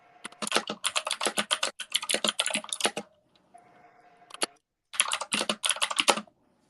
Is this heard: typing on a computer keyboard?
yes